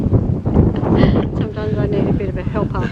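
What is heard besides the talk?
wind at Kakadu lookout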